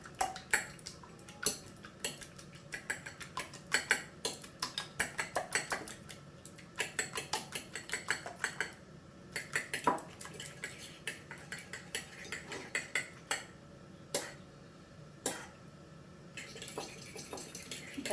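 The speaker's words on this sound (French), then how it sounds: "Je vais venir prendre l'œuf que je vais venir battre" An egg is beaten with a fork in a deep plate, producing quick, close, rhythmic clinks and taps of metal on ceramic that carry on steadily throughout with no talk.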